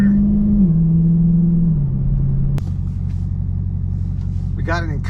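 A Dodge Challenger Hellcat Redeye in custom track mode with traction control off accelerates hard from inside the cabin, its deep engine drone stepping down through firm gear shifts, with a voice speaking briefly near the end.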